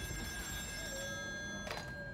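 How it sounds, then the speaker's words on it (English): A telephone rings in the video game Still Wakes the Deep, a single electronic ring burst rising over a steady hum and tonal background drone. "Phone call."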